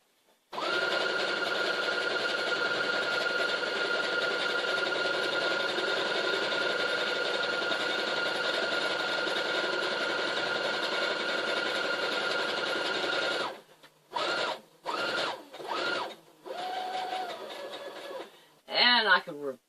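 A sewing machine runs steadily for over ten seconds with a constant mechanical whir, then stops and starts in several short bursts before a brief final run.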